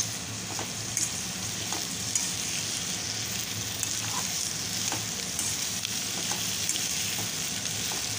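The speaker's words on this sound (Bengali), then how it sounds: "পর ওই তেলেই সমস্ত ক্যাপসিকাম, পেঁয়াজ, টমেটো, রসুন সব কিছু দিয়ে ভালোভাবে নেড়ে চেড়ে ভেজে নেব।" Capsicum, onion, tomato and garlic stir-frying in oil for dry chilli chicken, a steady, even sizzle with occasional faint clicks of a spatula against the pan.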